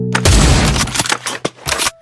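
AWP sniper rifle fire in the VR shooter Pavlov, a loud close blast followed by a quick scatter of sharp gunshot cracks and impacts over about two seconds.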